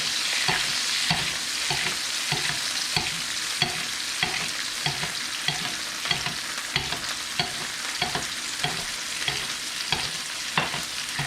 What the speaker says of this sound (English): we're going to go back to basting